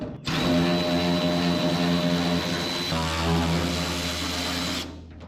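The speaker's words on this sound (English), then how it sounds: "Right now, power tool's your friend." A power tool strips undercoating from a 1973 Chevy long-bed truck, giving a loud, steady whine with a high tonal edge that runs for about five seconds, dropping slightly in pitch midway before cutting off.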